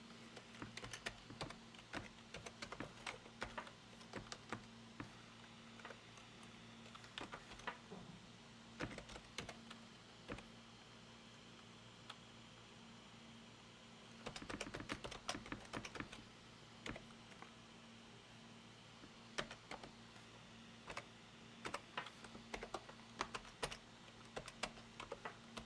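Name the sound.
typing on a computer keyboard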